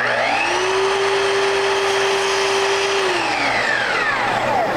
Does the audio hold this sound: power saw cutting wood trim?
yes